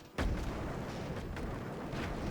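A wooden airship's deck gun fires in Airships: Conquer the Skies, a sharp boom followed by a few softer repeated shots over steady rumbling battle noise.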